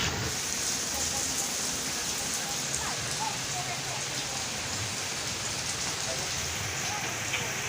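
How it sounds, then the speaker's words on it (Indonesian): Rain falls steadily on a hillside oil palm plantation planted with local seedlings, giving a dense, even hiss with scattered drops throughout and no break. "Kalau sudah hujan seperti ini ya kawan, sudah mulai hujannya turun"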